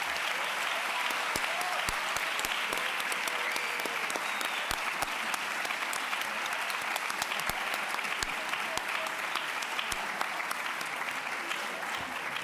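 A seated audience at a journalism talk gives the guest speakers a long, even round of applause, sustained crowd clapping at moderate distance with sharp individual claps poking through.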